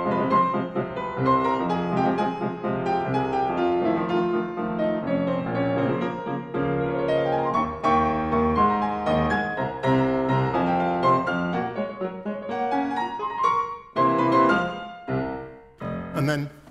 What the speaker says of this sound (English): This is what's called a piano reduction.